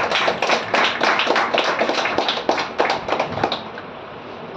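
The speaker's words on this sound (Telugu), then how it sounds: "అర్థమైతే పరిశుద్ధాత్మ దేవుడు కొంచెం క్లాప్స్ కొట్టండి." Congregation clapping during a Sunday church service, a burst of sharp, uneven claps from a modest group that thins out and trails off after a few seconds.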